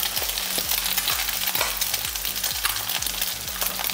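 Eggs fry over easy in a pan with a continuous close crackling sizzle, overlaid by a regular series of hard, low scraping thumps from a utensil.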